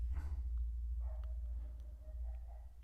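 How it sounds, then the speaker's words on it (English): Dog barking at neighbourhood dogs, heard faintly in the background over a steady low rumble, with scattered short yelps and whines through the middle and end. "She's going mental at the neighbourhood dogs."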